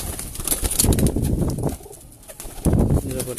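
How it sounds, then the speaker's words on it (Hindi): An Imam Din Ferozpuri cross pigeon coos loudly and close by in deep, throaty bursts, with a short pause in the middle and a faint rustle of wings. "ये इमाम दीन कबूतर है"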